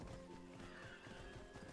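Horse neighing in the video game Skyrim, a single whinny lasting a couple of seconds over a steady bed of game music and ambience, heard clearly with no talk.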